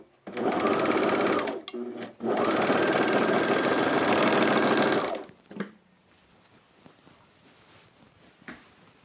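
Sewing machine stitching a seam on pants, two sustained bursts of rapid close motor whir separated by a brief stop, then quiet handling noises afterward.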